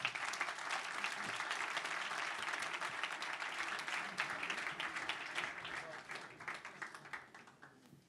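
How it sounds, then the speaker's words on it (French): A lecture audience applauds warmly, dense clapping from many hands that holds steady and then thins out and fades toward the end. "Applaudissez-les encore."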